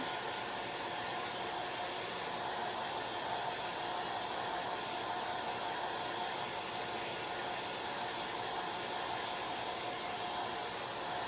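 A heat tool or hair dryer blowing steadily to dry chalk paste on a witch design, an even, unbroken whoosh of airflow with a faint whine, constant and moderately quiet throughout.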